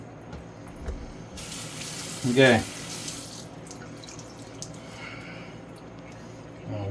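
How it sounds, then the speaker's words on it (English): Tap water running over a 5K whetstone as it is rinsed, a soft steady stream near the sink with a brief louder splash in the middle and a short spoken word. "Give this stone a real good rinse."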